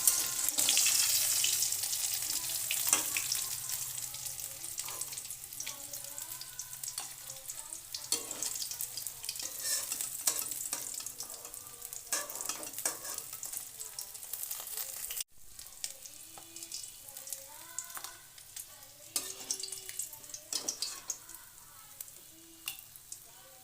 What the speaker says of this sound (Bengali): বাকি মাছগুলো একইভাবে ভেজে উঠে নেয়